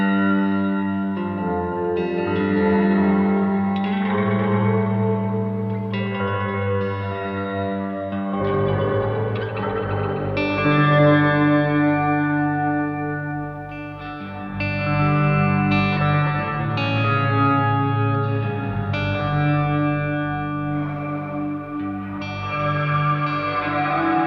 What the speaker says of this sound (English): I'm doing a shimmery reverb with the octave with the interval set down an octave.